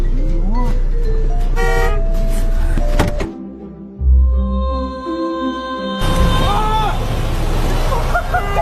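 A car horn honks at a funny bumper sticker on a car in traffic: loud, close toots in two bursts, with a quieter stretch of engine and road noise between them.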